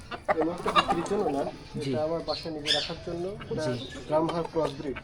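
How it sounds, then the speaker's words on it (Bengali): Chickens, including Brahma crosses, cluck and squawk close by at a poultry farm while people talk over them. "এরকম সুন্দর সুন্দর কালারফুল মুরগি আছে"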